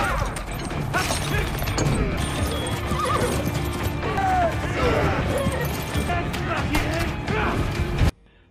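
Horses neighing and whinnying while hauling on a rope in a battle, with hooves clopping amid loud chaotic clashes and shouting voices, before the sound cuts out abruptly at the end.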